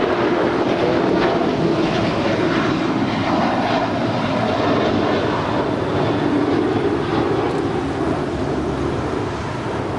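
Steady, loud roar of a jet airliner powering up for takeoff on runway 25 right at Los Angeles International Airport, a broad continuous rumble with no voices.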